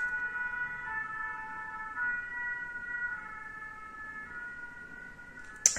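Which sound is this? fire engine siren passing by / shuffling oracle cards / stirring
fire engine siren passing by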